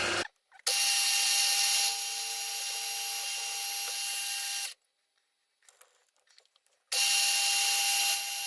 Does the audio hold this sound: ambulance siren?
no